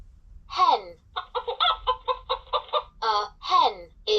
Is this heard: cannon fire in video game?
no